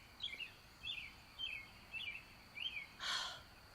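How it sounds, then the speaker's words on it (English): A bird chirps indoors in a quiet room, five evenly spaced short chirps fairly close, followed by a brief breathy noise, with no talking. "You fucking bird, would you stop chirping?"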